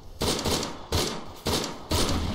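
Airsoft guns fire during a team game, four quick bursts of rapid snapping shots separated by brief gaps, loud and close.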